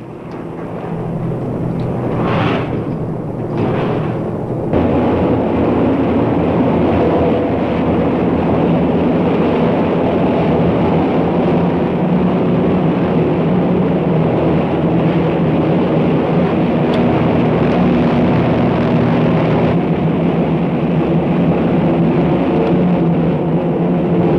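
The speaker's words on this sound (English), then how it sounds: "patrol plane trying to follow us" A steady, loud engine drone with rushing air, like an airplane in flight, continuous throughout with no voices.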